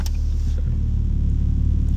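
A BMW M3 (G80) pulls away slowly as its transmission crawls forward, giving a steady, close low engine rumble heard from inside the car with no talking.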